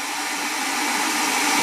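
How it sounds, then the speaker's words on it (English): An old, worn Revlon hair dryer running, a loud, steady whooshing roar of fan and airflow held close with no break. "Man, this hair dryer's seen some better days."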